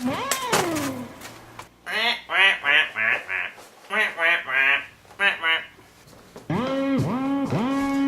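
A cartoonish duck, called a chicken ducky, gives bursts of rhythmic nasal quacks in several quick groups, loud and close, alternating with an animated voice and a longer honking call at the end.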